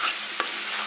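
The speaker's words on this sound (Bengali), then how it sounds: "আর একটু নাড়তে হবে, আর একটু নেড়ে নেব।" Spice paste (masala) frying in a pan gives a steady soft sizzle, broken once by a single short scrape of a stirring spoon.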